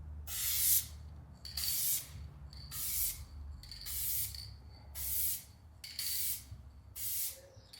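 Spray gun laying a pearl mid coat of paint on a Honda Accord in repeated bursts of hiss, about eight passes with short pauses between, close and fairly loud over a low background hum.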